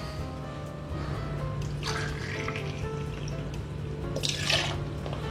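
Blanche d'Armagnac poured for an Armagnac sour cocktail, a gentle liquid trickle and splash over a steady background hum, close and moderately loud with no talk.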